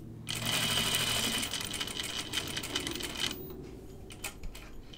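A sewing machine runs steadily for about three seconds while stitching the pocket of a shirt dress, then stops, leaving a few short, quieter mechanical clicks and taps near the end.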